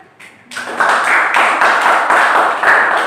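A classroom group of students breaks into applause for a presenting student group, steady close clapping from many hands beginning after a brief quiet moment and continuing evenly.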